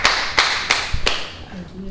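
Several people clap at a show, four sharp, loud bursts of applause that come in a steady beat. After them a voice is heard.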